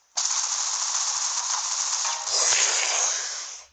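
Rapid automatic gunfire in the shooter game Critical Ops rattles in a dense, sustained burst lasting several seconds, briefly easing and then intensifying again, with no voices over it.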